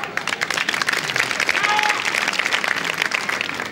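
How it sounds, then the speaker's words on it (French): A street crowd applauds after an outdoor acrobat show at Beaubourg in Paris, lively, close clapping running steadily, with a faint whistle-like tone partway through. "Un applaudissement."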